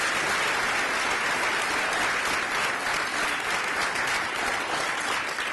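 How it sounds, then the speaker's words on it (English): A big audience applauds after a festival performance of Shakespeare's Macbeth, a loud, thick, unbroken roar of clapping that stays level from start to finish. "Can we give them all one more round of applause?"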